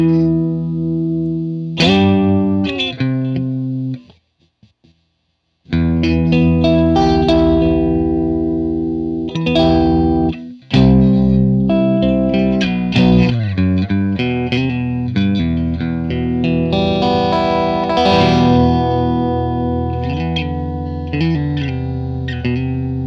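Electric guitar through a Marshall DSL1 one-watt amplifier on the classic gain channel with all knobs at midpoint, playing crunchy overdriven chords and riffs close up, with a brief gap of silence near the start.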